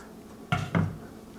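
A spoon stirs mac and cheese in a pot, giving two brief close scrapes and clinks of metal on metal, soft and alone.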